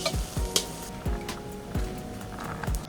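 Onions frying in a pan until golden for egg keema masala, a soft continuous sizzle broken by several sharp scraping stirs of a spoon against the pan, close and moderately quiet.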